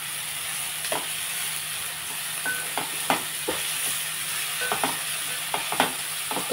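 Tomato pieces frying in a pan with onion and curry leaves, a steady sizzle and hiss broken by clicking stirs of a spoon against the pan, close and without talk.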